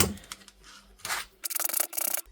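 A nail brush scrubs stained baby clothing fabric, producing short bursts of brisk scratchy rubbing strokes close up, ending in a quick rhythmic run of back-and-forth scrubs.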